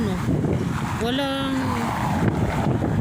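Loud, gusty wind roars against the microphone in a constant rumble at a park in Jubail, Saudi Arabia, while a voice speaks briefly over it.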